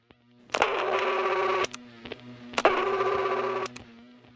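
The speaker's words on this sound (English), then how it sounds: "this was the sound of a rotary dial corded landline," An old rotary telephone dial whirs as it's turned and spins back, twice in a row, with sharp clicks between the turns. Close and fairly loud.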